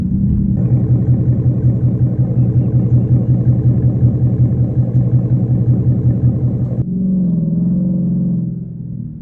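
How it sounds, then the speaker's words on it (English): A 2021 Ford Mustang GT exhaust with Flowmaster Outlaw mufflers and an X-pipe gives a deep, steady rumble at close range, holding for several seconds before dropping to a lower, softer idle. "I definitely would recommend the exhaust if you want something with an extremely deep rumble"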